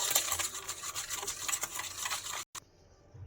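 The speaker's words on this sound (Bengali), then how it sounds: "সব ভালো করে মিশিয়ে নেবো।" Coriander pakora batter being stirred and mixed by hand, soft rapid scraping and tapping strokes in a bowl, close and fairly quiet, ending abruptly with a brief quiet tail.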